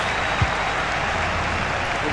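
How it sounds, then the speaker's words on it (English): Dense, continuous stadium crowd noise from the FC 24 football video game, a steady roar of cheering that stays loud and unbroken throughout. "Well, just listen to this crowd."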